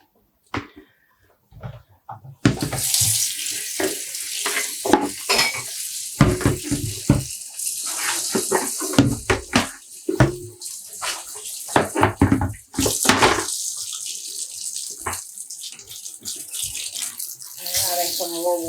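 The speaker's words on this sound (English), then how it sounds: "Adding some more water." Tap water runs and splashes into a basin while dyed mohair yarn is rinsed, gushing loudly after a quiet start, broken by sloshing and handling noises.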